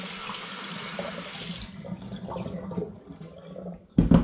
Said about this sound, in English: Just give my demijohn another rinse.